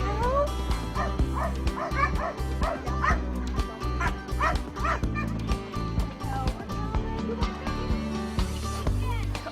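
Several rescue dogs bark, yip and whimper together in a cramped space, loud and close, in a dense, continuous chorus of overlapping calls.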